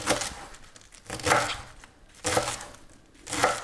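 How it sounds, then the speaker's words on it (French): A knife chopping cleaned leeks on a board, three or four bursts of quick crisp cuts separated by short pauses, close and fairly soft. "Une fois que les poireaux sont propres, on vient les couper, comme ceci."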